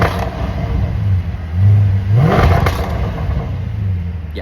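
Jaguar F-Type SVR engine revved hard from idle, a rising roar that peaks and falls back into a rumbling, burbling idle, close and loud with no talking.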